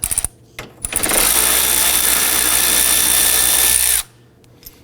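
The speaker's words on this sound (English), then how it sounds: "When you use a 10mm socket, loosen and remove this bolt holding the hood prop rod bracket." A power ratchet with a 10mm socket spins a bolt loose from the hood prop rod bracket on a 2005–2009 Subaru Legacy 2.5L, a few short taps before one steady, loud whir of about three seconds that stops abruptly.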